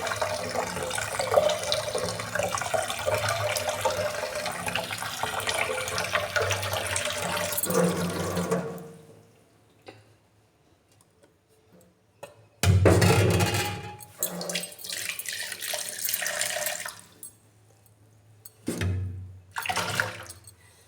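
Water poured into a ground plant fertilizer mixture for roses, a steady splashing pour for about eight seconds, then quiet, with two shorter bursts of pouring later.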